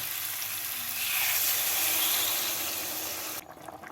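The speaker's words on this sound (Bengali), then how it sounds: "এবার এর মধ্যে দিয়ে দেব পরিমাণ মতো জল" Water pours into a pan of kohlrabi and prawn curry with potatoes, giving a steady close hiss and rush that runs for over three seconds before cutting off abruptly, with no voices.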